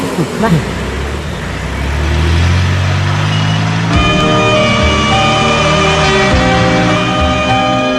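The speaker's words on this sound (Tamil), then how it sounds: "வண்டி எடுறா" A motor vehicle engine turns over and swells into a loud, steady rumble as it pulls away in a movie street scene, with voices and music rising over the engine noise.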